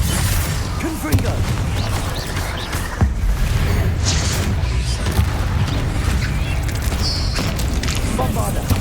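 Explosive blasts of the Confringo fire spell in the Hogwarts Legacy video game, dense and loud in a busy combat mix with crashes and bursts throughout, under a voice calling out spells.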